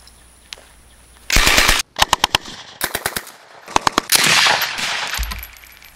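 A Japanese Type 96 light machine gun fires outdoors, loud close automatic bursts mixed with single and short rapid shots, separated by brief pauses with mechanical clatter.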